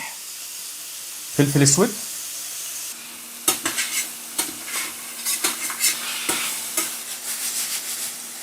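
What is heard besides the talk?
beef slices frying in olive oil and butter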